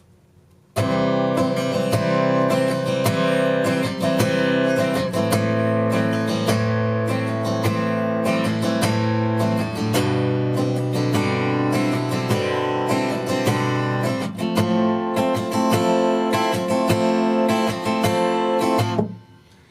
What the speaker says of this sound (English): that's the whole song on the acoustic guitar